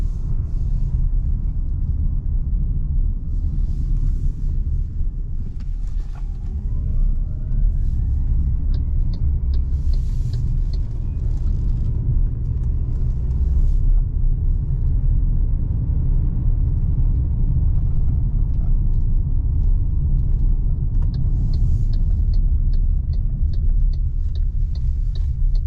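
A 2022 MG HS PHEV plug-in hybrid SUV cruises over a rough road, heard from inside the cabin as a steady low road rumble and tyre drone with faint rattles and ticks, continuous and unbroken by any voice.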